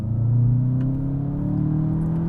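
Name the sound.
2024 VW Jetta GLI launch control acceleration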